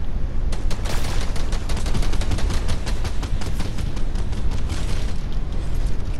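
Rapid, dense gunfire rattles continuously, bursts overlapping with booms, loud and sustained, like an intense firefight in a game.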